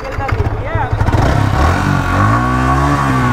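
Up close, the exhaust of an Indian-version V3 BS4 motorcycle blips and revs loudly, its engine note rising and settling into a steady, throbbing idle.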